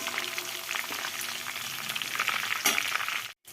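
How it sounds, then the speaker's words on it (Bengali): Cinnamon and whole spices frying in oil, stirred in a pan in a village kitchen: a continuous close sizzle with light scraping stir noises, a brief louder burst near the end before it cuts out. "এবারে এই মশলাটা একটু, ফোড়নটাকে একটু নাড়াচাড়া করে দেব"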